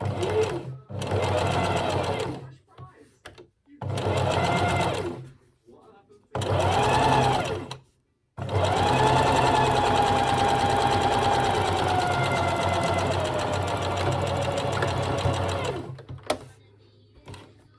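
A sewing machine stitches fabric for an ottoman arm in several short whirring runs separated by pauses, then one long continuous run. It sounds close and mechanical, and a voice speaks during the gaps.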